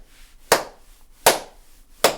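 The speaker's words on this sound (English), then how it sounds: "I'm clapping loud as fuck." Three loud, sharp hand claps ring out alone at an even, unhurried pace, each a crisp slap that fades quickly into silence.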